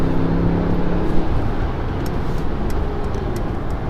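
A 2021 Mercedes-AMG S580 V8 cruising on the autobahn, heard from inside as a steady, dense roar of road and wind noise with a low engine hum, continuous and fairly loud without talking.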